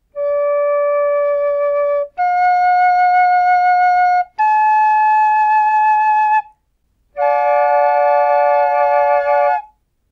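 A tin whistle plays harmony in fifths, giving three steady held note pairs one after another, then a pause and a fourth fuller chord, all bright and close with no voices.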